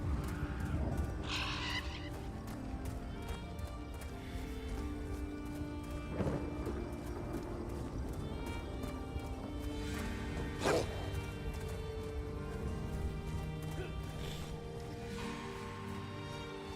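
In Elder Scrolls Online, a horse's hooves clip-clop steadily at moderate loudness over a dense game soundscape with music, and a brief whinny is mixed in.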